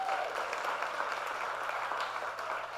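An audience at a real-estate masterclass session applauds the event sponsors: a steady, even wash of many hands clapping, fairly faint and distant, continuing throughout with no talk over it.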